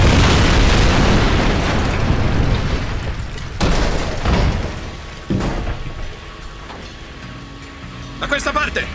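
Explosions in Jak II after the fuel tank is shot, with a loud rumbling boom at the start and several more booms and crashes after it, over game sound and voices.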